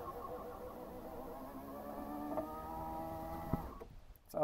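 On a 1995 Land Rover Discovery, the power window motor drones steadily while raising the window, with a slight straining waver and a click near the end before it cuts off.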